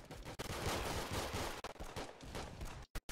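Dense, rapid video game gunfire from the Roblox shooter Arsenal, a continuous rattle of overlapping shots that cuts off abruptly near the end, with a couple of short bursts after.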